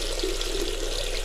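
Pink RV antifreeze pours into a sink drain while winterizing a fifth-wheel camper, a steady close liquid rush with a faint gurgle running throughout.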